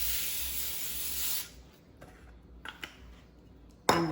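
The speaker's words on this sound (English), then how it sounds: "spray a little bit Pam on it because if you don't," Pam cooking spray hisses onto a cookie sheet in one steady spray of about a second and a half, close and loud, followed by a few soft clicks and a sharp knock.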